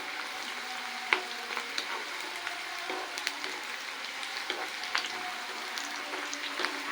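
Dried red chillies and crushed garlic sizzle in hot oil as a tempering for Guntur gongura curry, giving a steady, fairly quiet crackle with small pops throughout and no talking.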